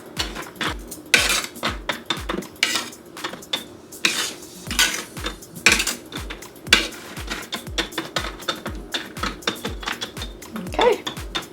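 Butter-coated almonds are pushed and spread across a metal baking pan, producing close, rapid clattering and scraping knocks in an uneven rhythm, with short pauses between bursts.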